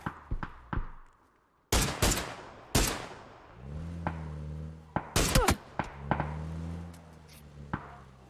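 Gunfire rings out in a battle royale video game, with sharp, loud individual shots and short bursts scattered across several seconds over a humming engine-like drone.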